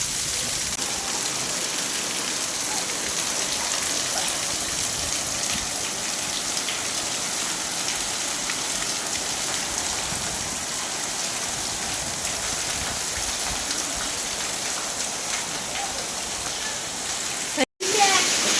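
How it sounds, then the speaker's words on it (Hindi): Heavy rain pours down in a dense, steady hiss with no letup, broken by a brief cut near the end. "तो भाई बहुत तगड़ी वाली बारिश आ रही है"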